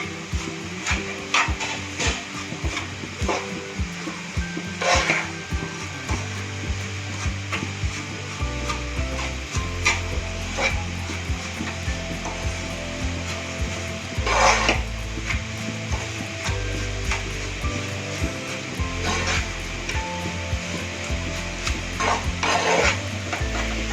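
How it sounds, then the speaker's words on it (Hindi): Parwal sweet mixture being stirred and mixed in a pan, with steady scraping and rubbing strokes and a soft sizzle running continuously, close and fairly loud throughout with no talking. "अच्छे से मिक्स कर लेंगे।"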